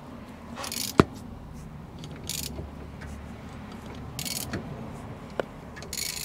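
A ratchet turns the crankshaft of a Ford Focus Mk1 1.4/1.6 engine with faint, sparse clicks and a few sharp metallic ticks against quiet workshop background.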